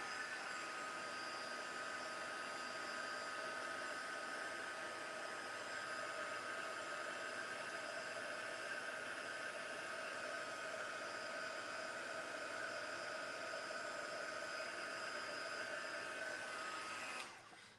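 A hair dryer blows steadily over modelling paste on a craft project, a continuous whooshing whir with a faint whine that holds unchanged and then cuts off at the end.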